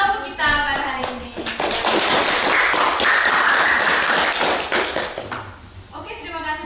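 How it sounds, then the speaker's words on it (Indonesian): A studio audience at a talk show gives sustained applause for two guests, dense clapping swelling and holding for several seconds, with a host's voice heard at the start and end. "beri tepuk tangan dong sekali lagi untuk"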